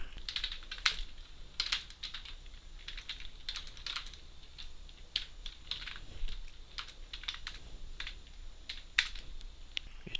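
Quick, irregular clicks of typing on a computer keyboard come in bursts with short pauses, close and fairly quiet, with no talking over them.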